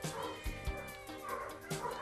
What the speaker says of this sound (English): Here's Mama with all her little babies.